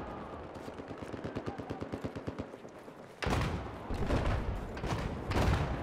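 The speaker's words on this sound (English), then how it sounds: "Who are they shooting at?" Battlefield 4 gunfire: a fast, evenly spaced string of automatic shots rattles off, then heavier, louder bursts and booming blasts take over in a dense, close barrage.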